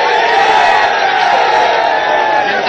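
A large crowd at a Haryana political rally roars and cheers continuously, a dense, loud wall of voices with whoops and shouts throughout.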